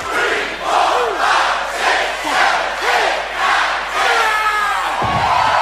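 A live wrestling crowd at the TNA No Surrender 2012 pay-per-view roars in loud, rhythmic chanting swells that rise and fall steadily, ending with a brief low thud.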